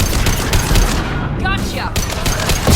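Loud sustained gunfire in the video game Mass Effect 2, rapid automatic bursts filling the whole moment, with a short voice cutting through the shooting midway.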